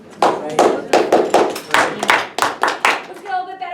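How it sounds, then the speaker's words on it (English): Students in a classroom clap their hands in a quick, loud run of about nine sharp, fairly rhythmic claps close by, with a voice coming in at the end. "Let's get a little bit better on clapping."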